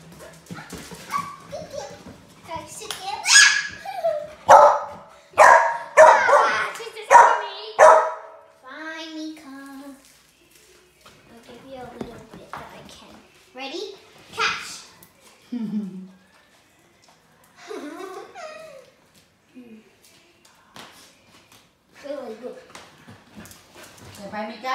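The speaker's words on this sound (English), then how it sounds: "this is the barking dog" A pet dog barks in a run of sharp, close barks early on, then gives scattered softer yelps and whimpers while someone talks to it.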